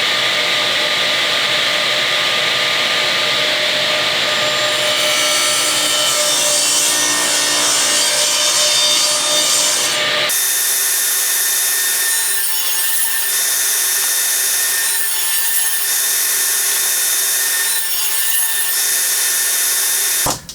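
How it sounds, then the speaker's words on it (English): A saw cuts spline slots into ash and white oak pieces, a steady, loud, harsh whirring rasp that runs continuously, changes tone midway and pulses in short repeated passes near the end, with no talking. "So we're going to continue on cutting these splines into the pieces."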